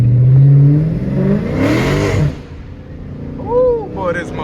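A Dodge Charger Scat Pack 392 V8 revs loudly while driving at night, the engine note climbing and falling as it accelerates, with a brief whining sweep near the end.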